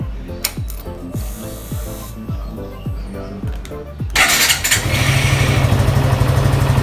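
A Suzuki Gixxer motorcycle cranks with a series of rhythmic starter pulses, then catches with a loud burst and settles into a steady, close idle around 1,500 RPM.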